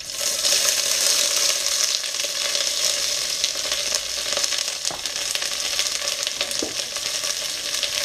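Onions sizzle and crackle steadily in hot oil in a very hot pan while cooking bora with aloo, a continuous loud frying hiss with occasional soft stirring clicks.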